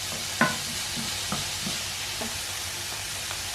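Chicken frying in a pan, a steady bright sizzle broken by a few short scraping stirs and utensil knocks.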